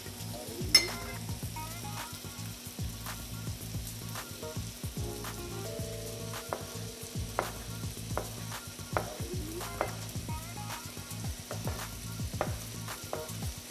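Chicken with tomato and chili fries in a pan, giving a steady sizzle up close with repeated clinks and scrapes of a utensil stirring against the pan.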